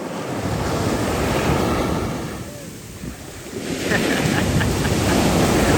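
Caribbean ocean surf rolls and breaks continuously near the shore, heavy wash mixed with strong wind buffeting the microphone, dipping briefly before surging louder again.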